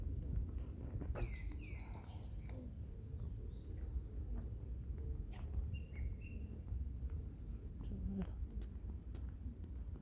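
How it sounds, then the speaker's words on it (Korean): Bright, high chirps and short warbling bird calls ring out intermittently over steady outdoor background noise and low rumble along a pine path in an arboretum. "아주 새소리도 예쁘죠"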